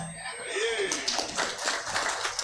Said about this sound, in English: Shall you clap?